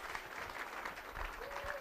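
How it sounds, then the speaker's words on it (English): A breakfast awards audience claps briefly, a faint, somewhat uneven patter of hands with a little murmur mixed in, lasting under two seconds. "I'll give him a round of applause, ladies and gentlemen"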